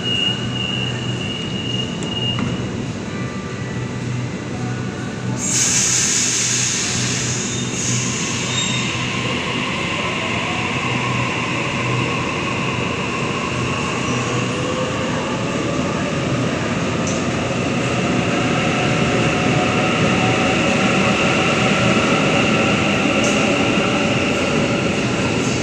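A train pulls away from a platform at Wynyard station with a deep rumble that steadily builds, wheels squealing and screeching in long rising tones over the rolling noise.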